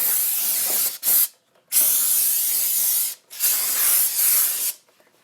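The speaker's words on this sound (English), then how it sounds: "First thing we want to do is go ahead and spray it down real quick." Three long bursts of aerosol brake cleaner hissing loudly up close onto a new brake rotor, separated by short pauses, with a brief final puff at the end.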